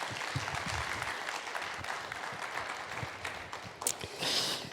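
A church congregation claps warmly and steadily, a sustained round of applause welcoming the pastor at a Korean Sunday worship service, swelling slightly toward the end.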